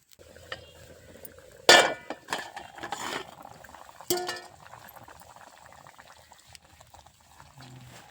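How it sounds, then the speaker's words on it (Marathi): Rice and water bubbling in an open, uncovered pot over an outdoor farm cooking fire, a steady soft simmer broken by a few sharp clinks and stirring knocks of a utensil against the pot. "आता मी झाकण जर ठेवलं तर ते उतू जाईल, त्याच्यामुळे थोडा वेळ असंच ठेवते आणि बघूया आता उकळी येईल"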